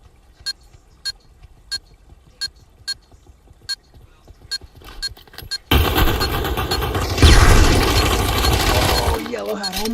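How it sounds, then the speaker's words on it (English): Sharp gunshots crack in a regular rhythm during a competitive VRML esports match of a VR shooter game, followed by a sudden dense, loud burst of noise. "And he's taking the headshot."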